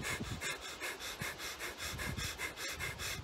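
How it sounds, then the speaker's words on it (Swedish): Rapid, rhythmic fire breathing during a breathing exercise, quick forceful nasal breaths pulsing evenly about four times a second, close and steady with no talking. "Andas in så mycket det går, håller andan och börjar eldandas"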